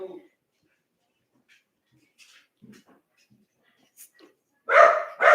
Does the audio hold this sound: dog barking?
yes